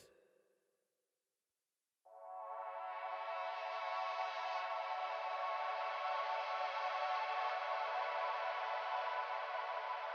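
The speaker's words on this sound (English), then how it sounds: "we layered that with some more pads from Analog Lab" After about two seconds of near silence, soft layered synth pads from Arturia Analog Lab swell in and hold a steady, sustained chord with a wide, airy sound.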